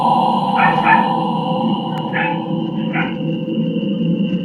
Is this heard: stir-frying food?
no